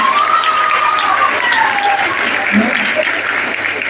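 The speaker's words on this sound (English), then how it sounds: "Give a round of applause." Loud, continuous applause from a large crowd, dense clapping throughout with a faint whistle or voice rising above it.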